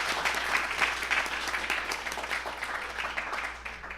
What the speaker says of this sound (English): let's give Valerie another round of applause.